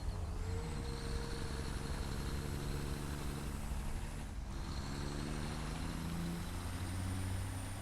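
A heavy truck rolls along in the factory-building game Satisfactory, its engine holding a steady low drone with a hiss of air brakes near the middle, loud and continuous with no talk over it.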